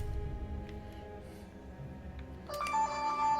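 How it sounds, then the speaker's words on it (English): A phone ringtone cuts in partway through, a bright repeating electronic tone sounding over steady background game music at a moderate level. "That's my phone."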